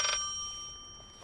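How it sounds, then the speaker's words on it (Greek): An old-style telephone rings inside the horror game Layers of Fear, a short bright ring burst at the start followed by a sustained electronic tone fading under a quiet room. "Δεν μπορώ άλλο με αυτό το τηλέφωνο."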